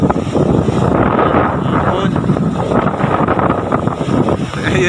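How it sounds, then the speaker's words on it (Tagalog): Very strong wind on a beach where shells are being gathered, buffeting the microphone in a loud, constant rumbling roar with gusty surges throughout. "Sobrang lakas na hangin."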